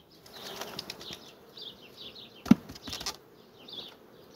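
Honey bees buzzing at an open hive near the queen, a close, busy hum of many insects with fluttering wingbeats and a few sharp knocks from handling the frames.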